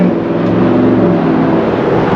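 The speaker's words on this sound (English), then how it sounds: "Look at the Shelby pickup truck." A Shelby pickup truck driving past on a neighborhood street, its engine a loud, steady close rumble that holds throughout without a break.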